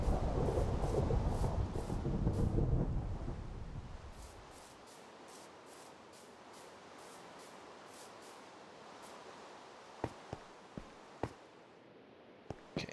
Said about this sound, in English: Okay, lightning storm.